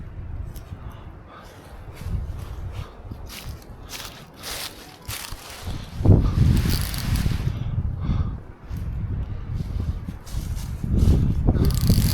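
Wind gusts at a wooded campsite where a hammock and hot tent are being pitched, heard as uneven low rumbling buffets and rustling that swell and ease over about twelve seconds, with footsteps and handling noise close by.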